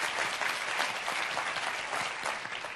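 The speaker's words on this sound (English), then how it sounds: "you deserve your round of applause" Audience applauding at a university panel discussion on women in leadership, a dense even burst of clapping from a sizeable crowd, steady from start to finish.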